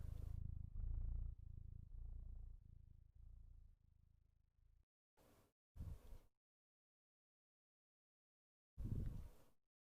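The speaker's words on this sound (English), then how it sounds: "Let's set the purring back." Cat purring effect on a NeosVR avatar, a rhythmic low rumble looping steadily at first, then breaking into a few short separate bursts with silence between.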